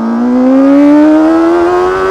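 Inline-four 500cc sportbike engine revving above 7,000 RPM with a strained catalytic converter, a loud steady high-pitched whine that climbs gradually in pitch, close and alone.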